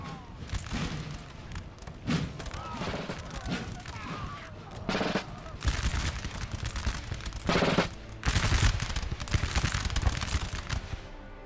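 Artillery and musket fire rumble through a Napoleon Total War battle, with a 10-pounder gun firing on enemy units. Dense overlapping gunfire and thuds run throughout, with heavier booming bursts recurring every second or two.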